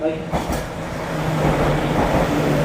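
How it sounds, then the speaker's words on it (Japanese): A limited express train bound for Sapporo pulls into a Japanese station platform, its loud steady rumble and wheel noise filling the space, with a station announcement voice heard faintly. "札幌行き特急北東3号が到着します。"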